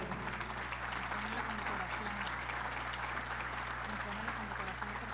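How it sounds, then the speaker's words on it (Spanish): Applause for an award recipient at a Chamber of Commerce ceremony in Valledupar, a steady wash of clapping heard faintly over a constant low hum, with voices underneath. "Recibámoslo con un fuerte aplauso."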